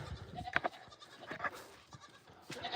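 Several goats bleat in a barn on a homestead during evening chores, short wavering cries from more than one animal overlapping irregularly against quiet rustling, fairly close.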